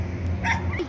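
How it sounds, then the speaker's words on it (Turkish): Dogs giving short yips and barks nearby, a couple of quick, high calls within a second. "Köpekler de ona havlıyor."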